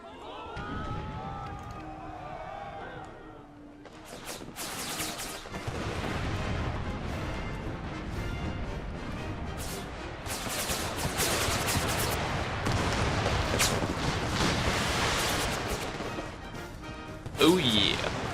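An artillery barrage in the Empire: Total War American Civil War mod, a rolling battle din of distant booms and crackling volleys that builds and stays dense, with a louder crash near the end and a voice talking over the start.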